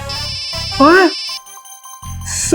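A phone ringtone plays in bursts, a bright synthetic melody with a warbling tone, while a voice speaks briefly over it.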